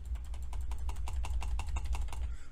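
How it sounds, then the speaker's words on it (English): Rapid clicking from a computer mouse at a gaming setup, a quick irregular run of crisp, close taps over a steady low hum, with no voices. "I'm just clicking now."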